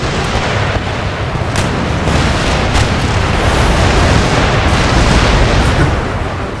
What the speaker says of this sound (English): The organ gun is so destructive